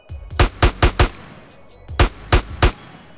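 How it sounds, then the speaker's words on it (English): Sharp gunshots from GTA San Andreas ring out loud and close: a quick burst of four, a pause, then three more evenly spaced shots. "Somebody already shooting at me."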